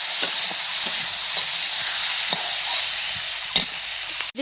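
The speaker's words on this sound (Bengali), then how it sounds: "তো লঙ্কাটা ভালো করে মিশিয়ে কষিয়ে নিচ্ছি।" Chilli is stirred and fried in a pan, a steady close sizzle broken by light scraping strokes of the spoon at an uneven rhythm, with a sharper clack near the end.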